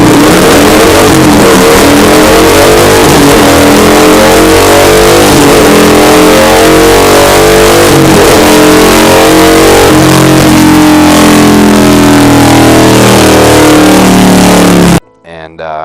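A 2015 Harley-Davidson FX motorcycle with upgraded cams revs hard on a dyno, a loud continuous engine roar climbing and holding through the pull before cutting off abruptly at the end.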